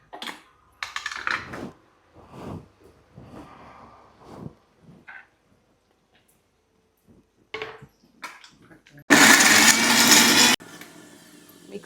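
A mixer grinder blending tomatoes into paste, a loud, harsh whirring burst lasting about a second and a half near the end, after a stretch of scattered knocks and handling noises.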